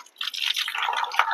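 Spring water at a village spring drips and trickles steadily with a bright, splashy patter, close and continuous, with no voices.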